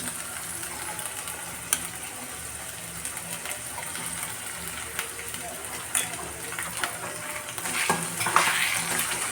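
Ground spice pastes, including green chili and nut paste with sour yogurt for chicken roast, fry and sizzle in a pan while being stirred, with soft scrapes and occasional clicks that swell toward the end.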